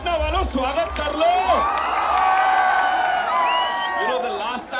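A large crowd at a Pushpa 2 trailer launch event at Gandhi Maidan, Patna, cheers, whoops and applauds loudly and continuously, with high shouts and whistles rising over the roar.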